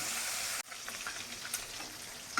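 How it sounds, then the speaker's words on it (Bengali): Pieces of fish hit hot oil and fry with a steady crackling sizzle, heard close and fairly faint, with a short stir or clatter. "একটা দুটো করে মাছ ঢেলে দেওয়া হচ্ছে, ভাজা হবে"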